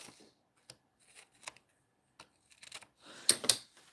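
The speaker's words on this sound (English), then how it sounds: "Let's cut this little tip off." A few quick, crisp snips as a small tip is cut off an inking piece during a live craft session, scattered short clicks that end in two louder, sharper cuts close by.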